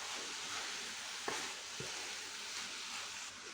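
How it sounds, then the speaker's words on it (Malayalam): Cabbage stirred in a hot frying pan, a steady broadband sizzle with a couple of brief scrape-like clicks from the spoon, close and continuous, no voices. "ഇതിലേക്ക് ക്യാബേജ് ഇട്ട് കൊടുക്കുക. നല്ലോണം ഇളക്കി കൊടുക്കുക."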